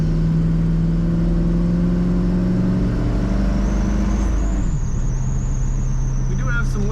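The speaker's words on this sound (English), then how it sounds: "Today we're driving a 1967 Ford Mustang." A 1967 Ford Mustang with Sniper EFI pulling from inside the cabin, a loud steady engine drone whose pitch climbs and then drops near the end as a faint whistle rises over it.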